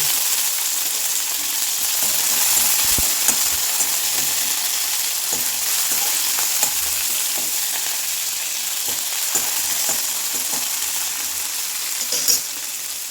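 Loud, continuous sizzling of onions and curry leaves frying in hot oil, with occasional small pops and stirring sounds, close up and without voices.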